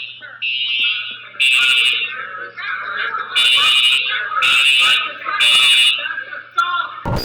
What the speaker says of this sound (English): A fire alarm can be heard in the background